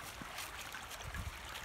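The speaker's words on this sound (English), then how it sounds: "Water is going kind of fast today." A creek swollen by rain flows fast, with a steady faint rush and light gurgling of water outdoors in early spring.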